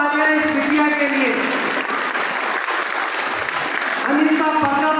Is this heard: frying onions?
no